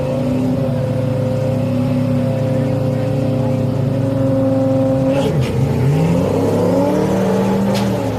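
A grudge-racing car on a drag strip, its steady engine drone holding loud and close before the pitch sweeps and shifts as it accelerates hard away, with no talk over it.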